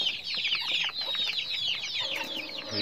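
Two-month-old chicks raised on a small poultry farm cheep and cluck continuously in a busy, overlapping chorus of high chirps, close and steady throughout the short stretch.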